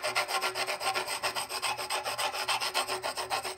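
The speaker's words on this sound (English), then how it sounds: "You hear the rubbing." A paintbrush tip rubs back and forth over a painted marble surface in a steady, rhythmic scrubbing pattern, close and fairly quiet, with no talking.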